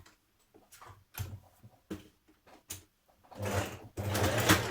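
A sewing machine stitches a dress seam with a back tack, running in short stop-start bursts with ticking pauses between them, then two longer, louder runs at the end. No one speaks.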